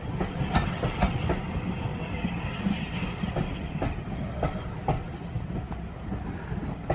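A special train made up entirely of dining cars rolls by in North West England with a steady rumble and rhythmic clickety-clack of wheels over rail joints, fairly close, with no talking.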